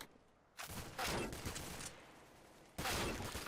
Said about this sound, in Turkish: Ya birisi de sniper almış. Ölümüne vuruyor milleti.